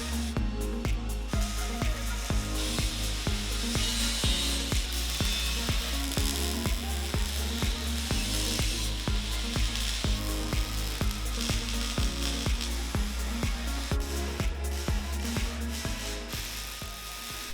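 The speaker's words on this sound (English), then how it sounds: "Right now I'm gonna go ahead and weld up some of the gussets" Gussets are being welded onto a stretched Jeep LJ frame, a steady crackling, sizzling buzz that runs continuously with rapid regular pulses throughout, fairly close and unaccompanied by speech.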